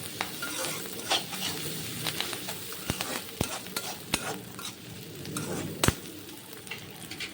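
Onions with salt frying under a lid in a pan for a spicy fish curry, a steady faint sizzle broken by occasional sharp clicks and taps of stirring.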